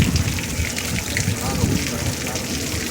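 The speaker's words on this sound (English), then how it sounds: "There's a lot of wind and a lot of rain right now for Martin County." Heavy rain and gusty wind in Martin County, Florida, a dense, loud, continuous wash of falling water and wind noise with no talking.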